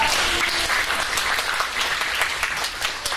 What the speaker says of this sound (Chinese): 再一次掌声送给我们的评审